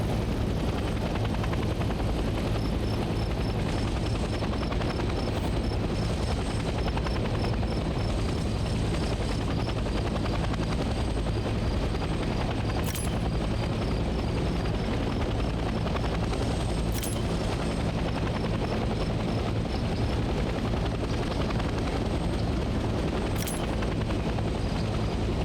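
A helicopter in the Vietnam-era combat video game Hell Let Loose flies steadily, its rotor and engine drone loud and constant throughout, with a few faint sharp clicks over the top.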